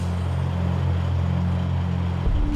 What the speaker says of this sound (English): Hundreds of lorries are preparing to board ferries bound for Britain.